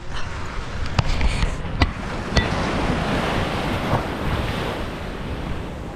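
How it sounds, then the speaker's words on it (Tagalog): Sea waves washing onto a beach near a hut, a continuous close surf wash with wind rumbling against the microphone and a few sharp knocks early on. "Lapit ng dagat."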